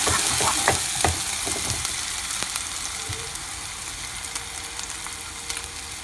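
Ginger garlic fries in a pan for masala Maggi, a steady close sizzle with a few light stirring taps early on, gradually easing in loudness.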